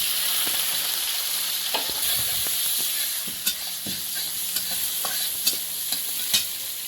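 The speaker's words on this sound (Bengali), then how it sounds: "অল্প একটু তেল দিয়ে দিচ্ছি ওই তেলের মধ্যে একটু জিরে অল্প একটু পেঁয়াজ কুচি" Cumin seeds and chopped onion frying in a little oil, a steady close sizzle with scattered crackles and pops and occasional spoon scrapes against the pan, no talking.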